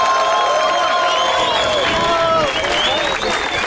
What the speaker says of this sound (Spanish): Y antes que todo, un aplauso fuerte para Night, gente.